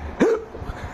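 A single sharp hiccup, close and fairly loud, with a quick rising-then-falling squeak followed by faint breathy noise, no talk around it.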